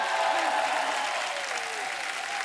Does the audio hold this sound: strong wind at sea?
no